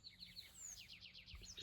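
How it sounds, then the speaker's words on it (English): Birds sing outdoors on a rural property, faint and somewhat distant, with repeated quick chirping trills and a thin whistled note over a low background rumble. "The birds are singing."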